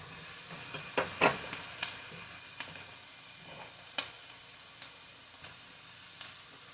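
Diced potatoes frying with ham in a skillet, a soft continuous sizzle with scattered light scraping and stirring clicks, close and fairly quiet.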